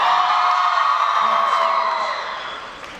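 A large panel audience at a Comicpalooza Spider-Man panel with Tom Holland cheers, whoops and yells loudly all at once. The roar starts at full volume and slowly fades.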